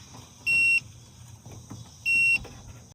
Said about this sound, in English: if you touch both contacts with the probes and it beeps